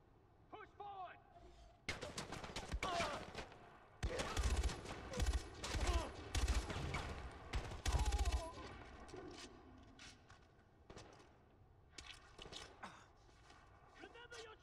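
Gunfire from a sniper and enemies in Far Cry 4, with bursts of rapid shots and sharp cracks clustered through the middle, loud and close, over game sounds and scattered talk.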